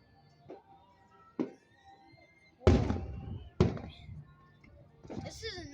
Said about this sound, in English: This is a not so bad fireworks show.